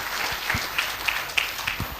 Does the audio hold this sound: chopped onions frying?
no